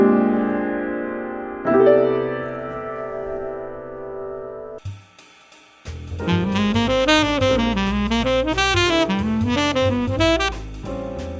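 Jazz chords of a backdoor 2-5 progression, starting with two sustained chords that ring and decay, followed after a short gap by a busier, legato chordal passage with moving inner voices, clean and close with no talking.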